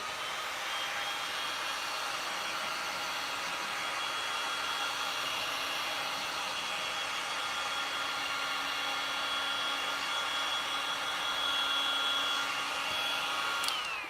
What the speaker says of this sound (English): Let's give this a little bit of a blast with my dryer.